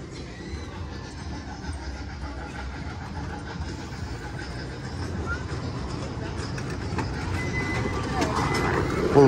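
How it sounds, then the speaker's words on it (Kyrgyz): A train rolls past in Orlando, Florida, a steady broadband rumble and rattle that holds for several seconds and grows louder toward the end as it draws nearer. "Бул поезд каяка чейин барат?"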